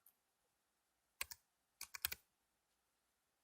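Computer keyboard keys tapped while deleting lines of Java code, a few quick clustered keystrokes in two short bursts, close and crisp, with quiet pauses between and no talking.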